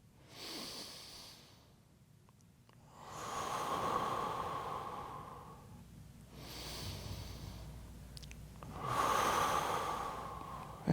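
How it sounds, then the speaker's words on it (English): Slow, deep yoga breathing, a man holding a chest-opening pose with arms overhead; long airy inhales and exhales alternate in steady cycles, close and soft, without speech. "Give this about 2 more breaths."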